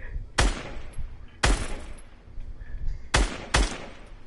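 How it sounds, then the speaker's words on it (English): Gunfire in the video game Fortnite: four sharp, loud shots at uneven intervals, the last two close together, over a quiet background. "Stop shooting me."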